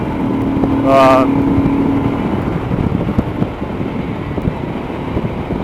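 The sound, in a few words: motorcycle riding on a road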